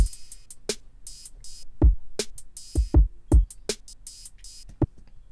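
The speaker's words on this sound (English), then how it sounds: "But without sample delay, it sounds like this." A beat mix plays an open hi-hat panned right without sample delay: crisp, hissing hi-hat hits repeat over punchy kick drums in a steady rhythm, up close and clear.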